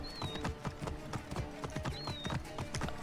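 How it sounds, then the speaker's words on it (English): A horse gallops in Assassin's Creed Origins, rapid rhythmic hoofbeats pounding close and steady throughout, with a couple of thin high tones riding above the clatter. "Yeah, I'm gonna get a horse."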